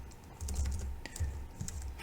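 Fingers tap on a computer keyboard at close range, a quick irregular run of soft clicks and key thuds with slight pauses, quiet and alone without any talking.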